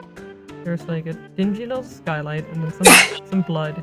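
A single sharp, loud sneeze cuts in near the end, between stretches of people talking close to the microphone.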